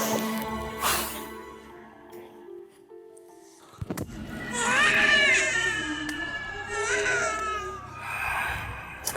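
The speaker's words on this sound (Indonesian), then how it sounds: "Suara bayi nangis." A baby cries in an Indonesian horror show, a thin wailing cry rising and falling in several bursts after a sharp thud, heard fairly close with faint voices around.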